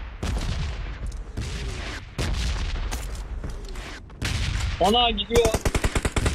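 Repeated bursts of automatic gunfire in the video game PUBG Mobile, sharp cracks in irregular clusters ending in a rapid rattling volley, with a voice speaking briefly among the shots.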